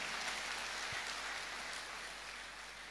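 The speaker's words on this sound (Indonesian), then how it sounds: "Tepuk tangan yang meriah bagi Tuhan." Church congregation applauding for God during a sermon, a dense, even hiss of many hands clapping from a distance, faint and continuous without any voices.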